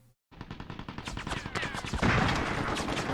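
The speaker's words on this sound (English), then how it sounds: "This is supposed to be a bolt-action sniper rifle." Rapid gunfire from a bolt-action sniper rifle in Mercenaries 2 on PS2, a Cuban-made gun, cracking out in a dense, loud burst of repeated shots that builds and thickens toward the end.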